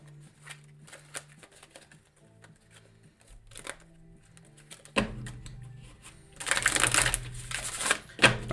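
Tarot cards are shuffled and tapped in a series of crisp riffling bursts, quiet at first and growing louder and denser toward the end, with soft background music humming underneath.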